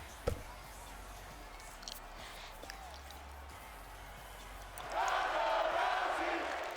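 A wrestling arena crowd in WWE 2K20 swells into a loud cheer for Ronda Rousey near the end, after a quieter stretch of faint thuds and background murmur.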